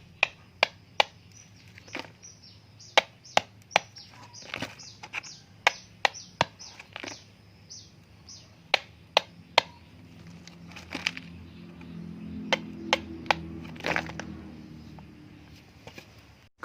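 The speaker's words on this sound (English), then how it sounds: "using a hammer and chisel, dig a hole to a sufficient depth" A hammer striking a chisel to dig a hole in wet soil during a field density test outdoors: a long series of sharp, irregular metallic taps, fairly close, with birds chirping in the background and a rustling, scraping patch near the end.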